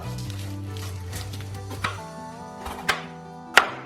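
Half a capsicum and half an onion being chopped into bite-sized pieces on a board, a few distinct knife strikes standing out above a steady low hum.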